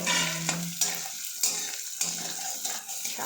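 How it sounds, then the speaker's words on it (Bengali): Mung dal frying in a pan while being stirred, a soft continuous sizzle broken by several sharp scraping strokes at a steady pace, close and fairly quiet, with no talking. "ডালটাকে এবার ভাজছে।"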